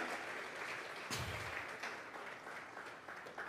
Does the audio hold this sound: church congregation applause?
yes